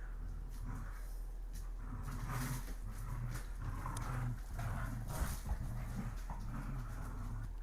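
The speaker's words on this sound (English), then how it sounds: "Oh, dogs." Dogs growling, whimpering and yipping at each other in rough play, a steady, busy scuffle with no talking.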